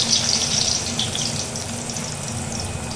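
Cut potatoes sizzle in hot mustard oil in a wok, a dense close hiss and crackle that rises loudly at first and then settles into steady frying, with no talking.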